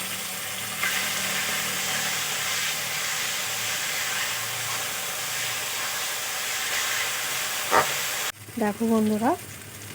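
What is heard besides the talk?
onion, garlic, ginger and green chilli paste frying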